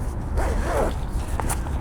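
A zipper pulled open on a camera bag, a short, close, scratchy rasp lasting about a second, followed by faint handling clicks.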